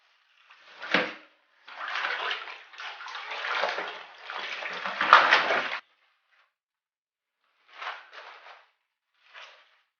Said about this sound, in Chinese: 这是今天早上去市场买的芥菜，2块5钱1斤，觉得还是挺贵的。 放水里洗一下。